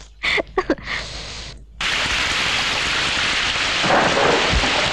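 Heavy rain starts suddenly after a few brief sounds and then pours steadily. It is loud, continuous and close, like a downpour on surfaces, with no voices.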